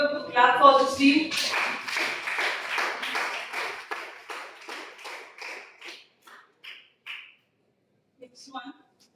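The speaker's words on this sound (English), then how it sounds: "give a quick clap for this team" A classroom audience applauds a student team after a digital integrated circuits presentation. Dense, fairly close clapping from many hands thins over several seconds into a few scattered claps, then fades to near silence.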